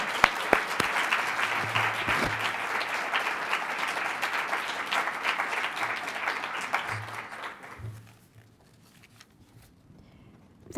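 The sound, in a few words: audience applause welcoming a speaker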